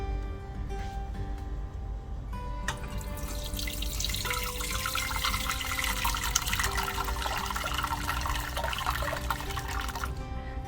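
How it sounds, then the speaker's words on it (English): Moringa drumstick leaf soup mixture is strained in a kitchen, giving a steady wet trickle and splash of liquid pouring through a strainer that swells after a few seconds and runs on continuously. "So now we'll be straining it."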